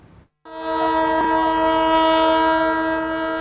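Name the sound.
Kenya Railways commuter train arriving at station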